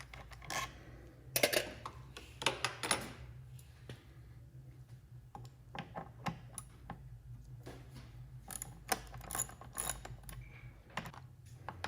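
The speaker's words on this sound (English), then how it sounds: "There's something very comforting about that ratchet sound" A ratchet wrench clicks in quick bursts while body panels are unbolted from a BMW R 1200 GS motorcycle. The rapid clicks are close and fairly quiet, separated by short pauses, with no talking.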